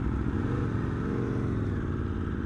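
An Aprilia Tuono V4 Factory motorcycle engine running right after starting, a steady, loud, close rumble with a rough, pulsing low throb throughout.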